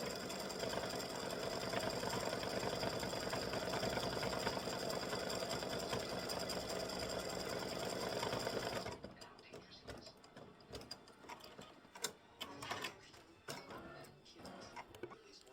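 An embroidery sewing machine stitching freestanding-lace Easter bunny earrings runs in a steady, dense mechanical whir for about nine seconds, then stops, leaving faint clicks and handling noises.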